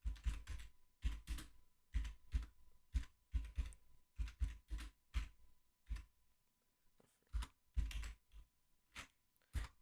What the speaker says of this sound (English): God, I'm bad at typing.